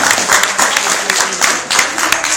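Audience applause at an Islamic sermon, a dense burst of many hands clapping close by, filling the whole moment with no talk over it.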